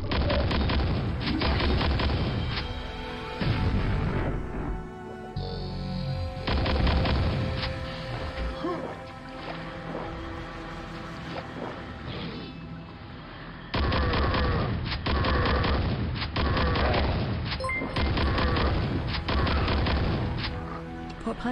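Constructs in kamikaze mode blowing up in the Quake mod Dwell, a run of loud, heavy explosions and crashing booms in bursts with short lulls between, close and forceful throughout.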